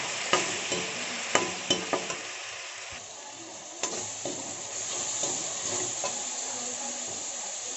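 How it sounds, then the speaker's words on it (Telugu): Pureed tomato fries with onions in a pan for a kidney bean masala curry, giving a steady close sizzle broken by sharp scrapes and taps of a spoon as it is stirred, clustered early and then spaced out. "అందులో 2 టమాటాలు ప్యూరీ చేసుకున్నాను, వేసి బాగా వేయించుకోవాలి."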